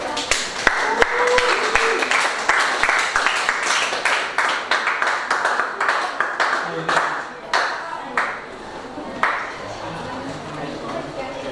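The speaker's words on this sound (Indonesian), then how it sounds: "Silakan tepuk tangan" Group applause in an Indonesian school coaching and academic supervision session: scattered sharp claps from a small group fade into sparse, tapering claps, with voices and room noise in the background.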